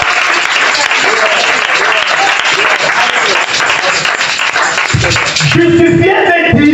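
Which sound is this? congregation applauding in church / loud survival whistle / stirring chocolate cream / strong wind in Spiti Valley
congregation applauding in church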